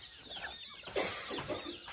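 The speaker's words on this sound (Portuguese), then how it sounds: "Olha o tanto de galinha, gente." A flock of chickens, hens and young birds, clucks on a farm by the Araguaia in Pará, a dense, continuous chorus of overlapping clucks and squawks at moderate distance.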